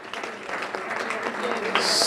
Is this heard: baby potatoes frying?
no